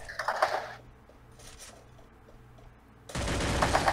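Gunfire in the battle royale game Free Fire: a close burst of rapid shots at the start, a quieter stretch, then a loud sustained volley of automatic fire at the end.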